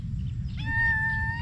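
A single cat meows near a calamansi orchard, a clear rising mew that starts faintly and holds for about a second over a low rumbling background.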